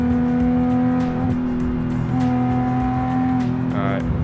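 Sports car in BeamNG on a top speed run, engine droning loud and steady with sustained harmonic whine as it accelerates, with a brief shift-like dip midway and a shrill squeal near the end.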